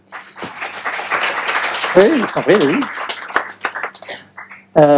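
An audience applauds as a guest, a marketing director, is called on stage at a conference debate. A broad wash of clapping sits under a French-speaking voice, with more talk following.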